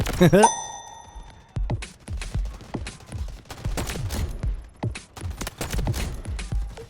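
Rapid gunfire bursts from Delta Force Mobile, a mobile shooter game, crack in a dense irregular series over most of the clip after an opening electronic chime, loud and close, with game effects mixed in.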